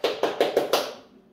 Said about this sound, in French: Tu m'applaudis déjà.